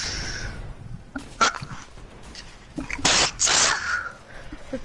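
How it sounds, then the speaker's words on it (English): A person on a PS4 livestream sneezes, with a couple of sharp bursts standing out against quieter background noise. "How many times do you sneeze?"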